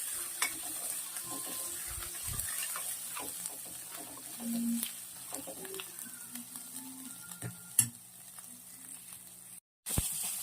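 Ginger, chili and garlic paste sautés in a pan as bitter gourd curry cooks, giving a steady soft sizzle with light scraping stirs throughout and a brief break near the end.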